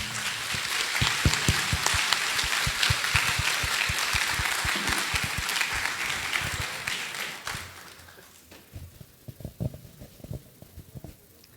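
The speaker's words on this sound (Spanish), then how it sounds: "un aplauso por favor al doctor" Audience applause at a technological innovation conference, a dense, steady burst of many hands clapping for about eight seconds before thinning out into a few scattered claps.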